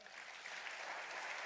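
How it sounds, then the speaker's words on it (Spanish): A church congregation claps together during a sermon, a brief, soft, continuous patter of many hands heard at a distance. "¿Qué no le das un aplauso al Señor?"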